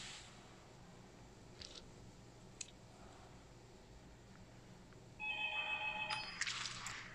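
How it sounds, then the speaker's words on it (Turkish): A telephone rings in the room during a home gaming session, its electronic ringtone tones starting near the end over a faint steady background hiss, with a few small clicks earlier. "Telefon çalıyor."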